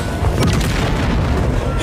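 A deep, continuous boom rolls through a narrated fantasy story as a figure lands on the ground, loud and sustained across the whole moment with no distinct separate blasts.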